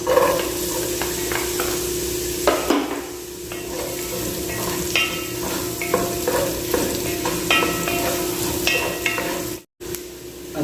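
Onion sautéing in a pan for beef with pineapple juice, a steady close sizzle with frequent scraping and stirring strokes throughout, briefly cut off near the end; no one speaks.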